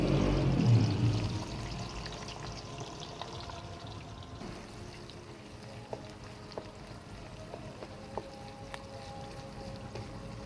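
Onions tipped into a hot pan for mutton paya chana raise a brief loud sizzling burst, which settles into a steady, quieter frying hiss that continues on its own.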